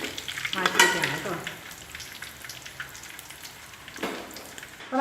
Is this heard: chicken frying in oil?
yes